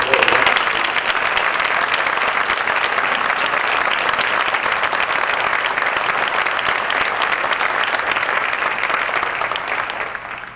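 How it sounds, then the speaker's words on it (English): Sustained, loud applause from a hall of fame induction audience, a thick continuous roar of many hands clapping for about ten seconds that holds steady and then begins to taper at the end. "please join me in giving a warm round of applause to all of the inductees tonight"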